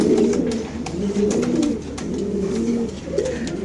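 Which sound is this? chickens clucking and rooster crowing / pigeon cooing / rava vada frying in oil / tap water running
pigeon cooing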